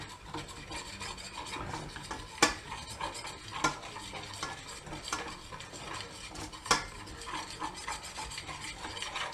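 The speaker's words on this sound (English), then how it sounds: "We're going to allow that to cook a little bit to get some of the starches to come out of the flour." A flour roux cooks in a pan for a bacon and broccoli cheese dish while a utensil scrapes and stirs it steadily, with a quiet rasping sizzle and a few sharp clinks against the pan and no voices.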